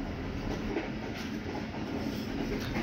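Ravi Express passenger train running on rough track near Lahore at about 40–50 km/h, a steady, close rumble and rattle of carriages throughout with no talking.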